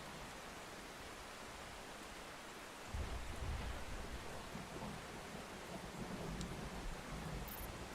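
Heavy rain pours steadily during a storm in the video game OUTBRK, a dense hiss that swells suddenly louder partway through, with low rumbling underneath.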